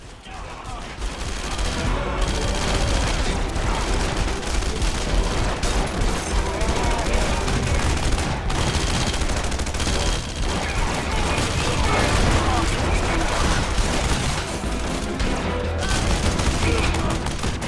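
Dense, loud gunfire fills Red Faction Guerrilla, rapid bursts and overlapping shots hammering almost without pause, with a voice now and then under the barrage.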